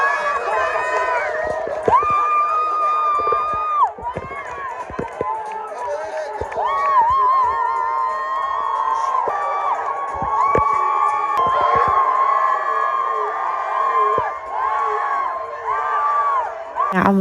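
At a football match, a crowd shouts, whoops and cheers in overlapping bursts that rise and fall, loud and close, continuing for most of the stretch with excited voices mixed in.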